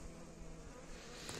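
Honey bees take their first early-spring flight out of a hive through a narrow opened gap, a faint, steady buzzing hum close by.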